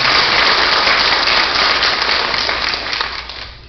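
Loud, steady applause from the audience at a school board meeting fills the room evenly, then gradually softens toward the close.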